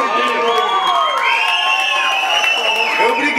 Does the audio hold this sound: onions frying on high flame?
no